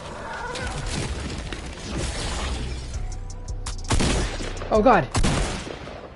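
Gunfire in an online shooter video game, with several sharp bursts of shots at close range amid ambient game noise, and a man's brief exclamation.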